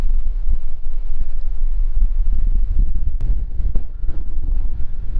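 Steady wind buffets the microphone on an exposed stretch of the Lost Coast Trail, a loud, continuous low rumble with gusty swells and a few sharp bumps, no voices.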